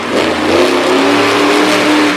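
Monster truck engine at a freestyle competition in Brookville, Pennsylvania, revving loudly and steadily, a close sustained roar with a slowly rising pitch.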